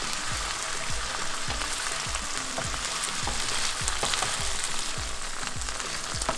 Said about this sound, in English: So we're going to fry it until all the sliminess,